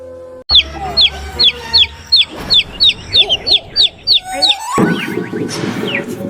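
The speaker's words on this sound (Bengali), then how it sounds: "মুরগি?" A chicken clucking loudly and close in a rapid, regular series of a dozen or so sharp calls, followed by a rush of rustling noise as other birds chirp faintly.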